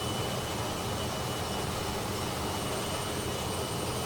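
A vintage T-33 jet's engine roars in flight as a dense, constant broadband rush with a faint high whine, loud and unbroken throughout.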